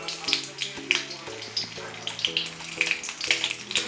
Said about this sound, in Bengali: কড়াইটা গরম হয়ে গেছে। দিয়ে দেবো 2 চামচ সাদা তেল,